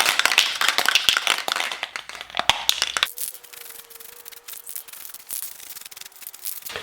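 Gloss black Rust-Oleum spray paint hisses from a can onto a router table wing in a loud, close burst for about three seconds, then quieter rattles and taps follow.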